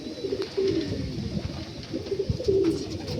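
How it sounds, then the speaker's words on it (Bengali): Malwai pigeons coo softly in low, repeated rounds, several close-by birds overlapping against a quiet background. "তা পায়রা সুস্থ আছে, সব ফিট আছে"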